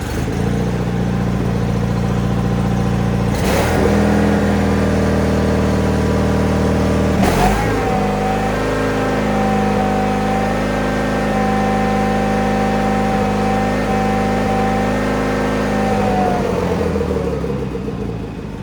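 A tractor engine running loud and close, rumbling steadily, with two sharp throttle bursts early on before settling into a sustained higher hum that fades slightly.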